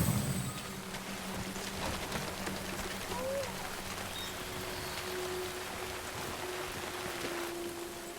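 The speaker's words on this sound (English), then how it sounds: "Waiting out the rain." Steady rain falls in Death Stranding, a continuous soft hiss with faint low rumbles and a few brief tonal blips underneath.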